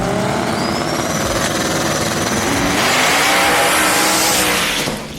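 Two drag cars, a Dodge Charger and a Firebird, roar at full throttle down the strip, a loud sustained engine blare with tire noise that swells past midway and then cuts off sharply at the finish.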